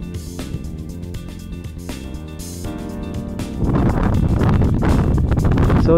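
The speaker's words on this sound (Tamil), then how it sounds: "இந்த இடத்துல அது மட்டும் இல்லாமல் ரொம்ப காற்றும் அதிகமாக அடிச்சிட்ருக்கு" Strong wind blows at Thippampatti hilltop viewpoint near Mettur in Salem. Music plays at first, then a loud, steady roar of wind buffets the microphone for the rest of the stretch.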